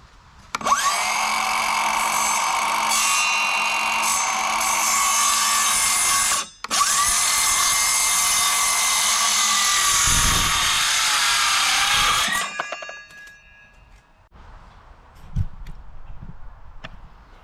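A power saw on a Workmate bench cuts wood for a rabbit box trap, with two long, loud, close whining cuts separated by a brief pause, then fading into quieter handling and clunks.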